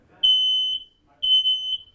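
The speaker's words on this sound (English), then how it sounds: "This is a sound you don't want to hear, but you do want to make sure your smoke detectors work." A smoke detector sounds two loud, piercing electronic beeps, each about half a second long with a pause between them, close and clear with faint background noise.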